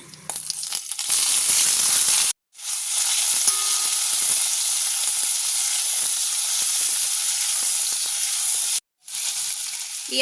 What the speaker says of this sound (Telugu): ఆనియన్ టమాటా అంతా బాగా ఫ్రై చేసుకుందామండి